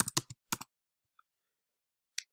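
A few sparse, crisp key presses on a computer keyboard, as when pasting a link with Ctrl-V, come in short bursts separated by quiet gaps.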